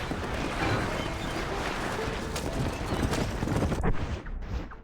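Horse hooves clip-clop in the Red Dead Redemption video game, a quick, busy run of hoofbeats over game background sound that drops away near the end.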